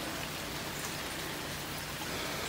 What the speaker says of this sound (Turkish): Havamız yağmurlu.